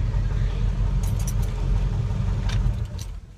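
Inside the cab of a running 1977 Ford F-150 pickup, a deep, steady engine rumble drones throughout, with light metallic jingles like keys rattling now and then.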